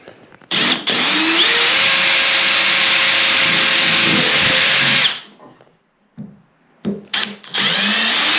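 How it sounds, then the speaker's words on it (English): A power drill whirs steadily for several seconds close by while drilling pilot holes in a bath for taps, stops, then starts again in a few short bursts. "I drill the pilot through first"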